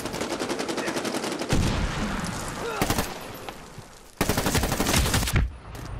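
Gunfire in the multiplayer video game Medal of Honor Warfighter: rapid automatic bursts with sharp single shots between them, loud and close, broken by short pauses.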